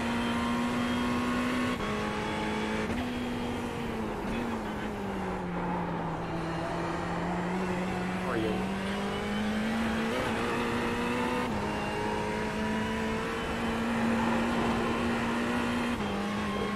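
Ferrari 488 Evo race car engine in iRacing at Bathurst, a steady loud drone that rises and falls smoothly through the gears and corners, running continuously throughout with no talk.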